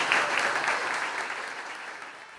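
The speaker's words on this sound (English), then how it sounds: "I want to ask you to give both of them another round of applause." An audience applauds the organisers of a short film competition, steady crowd clapping heard from a distance that gradually tapers off.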